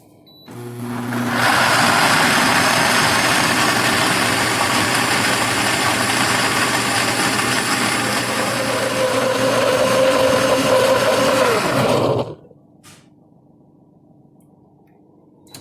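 A nut milk maker runs a blending cycle on almond milk, a loud, steady motor whir lasting about eleven seconds before it cuts off abruptly, leaving near silence.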